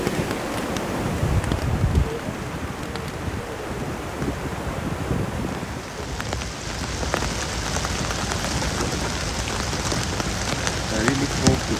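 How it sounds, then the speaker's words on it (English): Rain falls steadily at Desert Point beach in Indonesia, a dense hiss of drops on surfaces mixed with wind buffeting and the wash of surf, constant and close throughout. "I really hope that this rain will stop"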